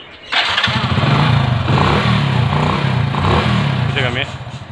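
A motorcycle engine fires up with the kill switch turned on, then runs at a steady, loud, close idle with a rough throbbing pulse for several seconds before a brief higher rattle near the end.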